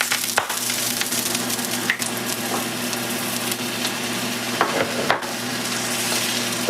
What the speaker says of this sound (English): keep frying up those tacos